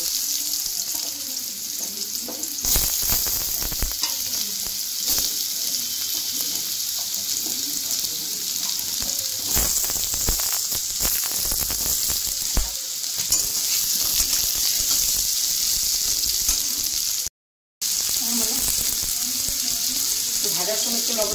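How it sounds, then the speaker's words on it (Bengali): Diced potatoes fry in hot oil in a pan after cottage-cheese dhoka cakes have been fried, giving a continuous loud sizzle and hiss with occasional stirring clatter and a brief cut in the sound. "এখন এই তেলের মধ্যে আমি আলুটা দিয়ে দেবো।"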